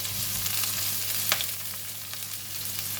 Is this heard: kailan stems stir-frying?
yes